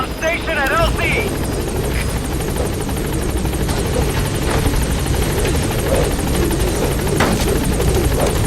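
Pequod's helicopter from Metal Gear Solid V: The Phantom Pain holds a steady, loud rotor roar and whine throughout, with a short radio voice and chirpy electronic tones near the start riding over it.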